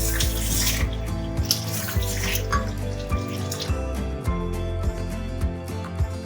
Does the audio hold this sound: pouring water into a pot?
yes